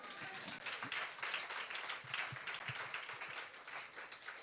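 Church congregation applauding during a French-language sermon, a steady wash of clapping hands with scattered voices, moderately loud and continuous throughout.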